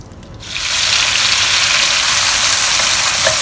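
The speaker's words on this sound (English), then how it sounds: "We're going to fry the spice paste now" Spice paste for Mee Rebus hits hot oil in a deep pan at medium heat, bursting into a loud, steady, broadband sizzle after a brief quieter moment, continuing alone without any talk.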